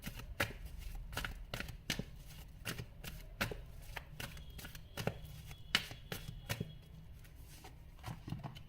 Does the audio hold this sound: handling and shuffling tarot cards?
yes